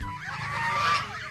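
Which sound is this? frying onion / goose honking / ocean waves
goose honking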